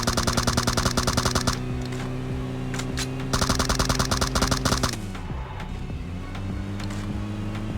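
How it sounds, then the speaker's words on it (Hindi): Automatic gunfire in PUBG rattles out in fast rhythmic bursts, loud and close, with pauses between volleys over a steady background hum of gameplay. "यहाँ पे हम लूट रहे होते हैं और तभी हम लोग का राइट पे फायर आता है।"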